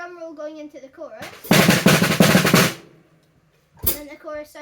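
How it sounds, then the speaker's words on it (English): A drum kit plays a fast drum roll, a dense burst of rapid hits lasting just over a second that leads into a chorus. It is loud and close, framed by a brief voice before it and another after. "And then it's a drum roll going into the chorus."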